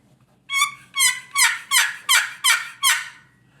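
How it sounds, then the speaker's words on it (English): Wild turkey hen yelps, seven rising-falling calls in an even cadence, high-pitched and close, alone with no talk. "that hen cadence and that hen yelp"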